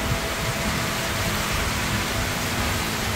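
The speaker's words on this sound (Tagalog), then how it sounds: "Sobrang ulan." Heavy typhoon rain pours steadily in a dense, even hiss with no pauses, loud and continuous throughout.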